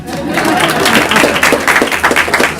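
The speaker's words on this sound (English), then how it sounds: "You can clap, it's okay to clap." A crowd applauds steadily, dense clapping filling the room, with some voices mixed in beneath it.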